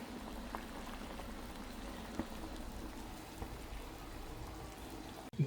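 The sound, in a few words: eggs boiling in a pot of water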